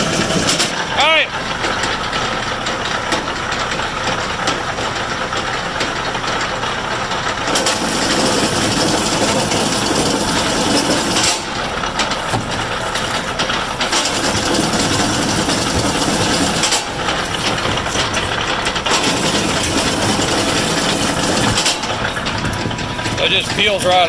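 CopperMine 520 stripping machine peels 250 MCM copper tray cable, a loud continuous mechanical grind and rattle with short dips as cable feeds through, while someone talks over it.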